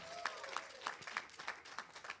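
A small audience at a live community panel event in Detroit applauds, with faint, scattered claps heard at a distance in a sparse, uneven rhythm.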